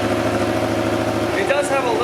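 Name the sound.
Yamaha FZ-07 motorcycle engine idling with new exhaust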